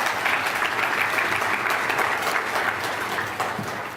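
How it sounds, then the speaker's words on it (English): Steady audience applause at an engineering scholarship dinner, a dense, even wash of many hands clapping that holds at moderate loudness and tapers slightly toward the end, with no talking over it. "Yeah, that's worth applauding"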